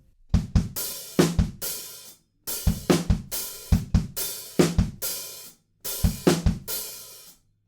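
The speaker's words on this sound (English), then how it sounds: "then there's a big halftime offbeat hi-hat pattern" Halftime rock drum groove from a song, with heavy kick and snare hits under an offbeat hi-hat, played close and loud in four repeating bars with short pauses.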